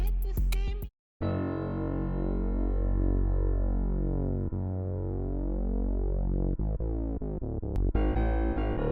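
A sustained synth pad in FL Studio holds low, thick chords over a deep analog Lab bass layer, steady and smooth, after a brief cut near the start.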